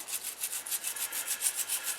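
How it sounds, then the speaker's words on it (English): Loosened paint being scraped off a Dinky Toys Austin taxi, a die-cast model, in quick rhythmic rasping strokes, about eleven close, even scrapes with no voices. "it's loosened it and it's just coming off in sort of fragments"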